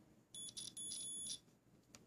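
A multimeter continuity test beeps twice in quick succession, a high electronic tone, short then longer, over a faint low hum.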